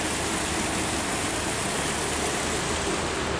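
Rushing river water at Sungai Demai in Medan, carrying rain runoff from the streets during flooding; a dense, steady broadband roar like a stream or small waterfall, loud and continuous throughout with no voices.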